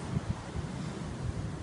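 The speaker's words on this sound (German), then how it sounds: "Ja, der Wind ist ziemlich stark" Strong wind blows at a lake shore in about 15-degree air, a steady broadband rush with low buffeting thumps against the microphone and no voices.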